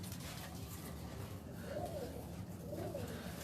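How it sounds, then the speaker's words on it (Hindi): A tali wala pigeon coos twice in low, soft rolling calls, close by, over a steady background murmur. "ये शाह साहब कबूतर है, ये जो टाली वाला"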